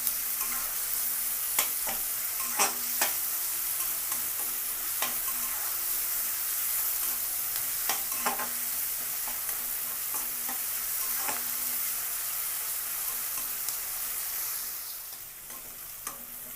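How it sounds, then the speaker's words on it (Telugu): Sliced onions fry and sizzle steadily in a pan for egg tomato curry, with a hot crackling hiss throughout and repeated scraping clicks as a spoon stirs, then a slight drop in level near the end. "ఇవి కొంచెం కలర్ మారేదాకా వేయించుకోవాలండి."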